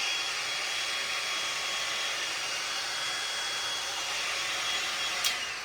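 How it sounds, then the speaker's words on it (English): A heat gun blows a steady, loud broadband hiss of hot air over fresh paint on a hand-painted nutcracker Christmas decoration, running continuously with no pauses. "give him a dry with my heat gun"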